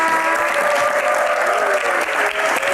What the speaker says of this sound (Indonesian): Tepuk tangan buat Mas Arman.